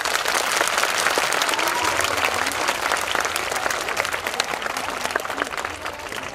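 An audience gives continuous, full applause, dense clapping that holds strong for the whole span and eases slightly toward the end.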